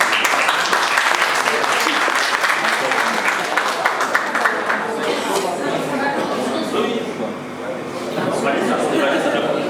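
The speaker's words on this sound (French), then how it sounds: "On peut applaudir pour elle." A school audience at an NLP event in Douala breaks into loud, sustained applause, a continuous wash of clapping with voices talking over it throughout.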